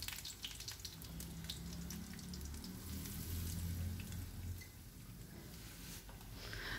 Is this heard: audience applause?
no